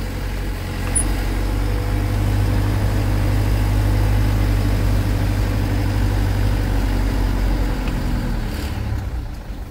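A 2000 Mitsubishi Fuso FE-SP truck's 4D34 four-cylinder turbo diesel drones steadily from the cab while driving, a loud low rumble holding even before easing slightly near the end.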